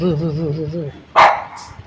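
A small dog gives one sharp bark right after a person speaks, close and fairly loud, followed by quieter room noise.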